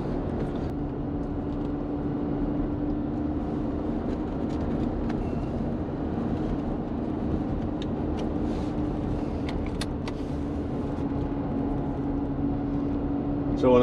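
Cabin sound from a Mercedes-Benz R129 SL on the move: a continuous engine hum holding a fairly even pitch over road rumble, close and steady for the whole stretch, with a slight rise at the end.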